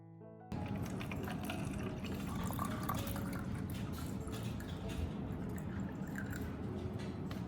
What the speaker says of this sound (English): After that, pour clean water into the body of the bottle.